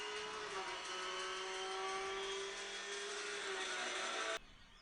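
A racing car engine from the mobile game Real Racing played on a Xiaomi Mi Max 2 phone, a faint steady whining drone with tonal hum that cuts off abruptly near the end.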